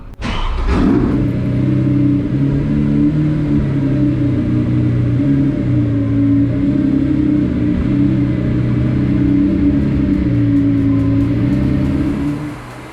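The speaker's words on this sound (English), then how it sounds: "the long-awaited owner started the engine for the first time" A Lamborghini Sian FKP37 supercar engine starts with a sharp burst, then settles into a loud, steady, throaty idle with deep rumbling tones that continue throughout.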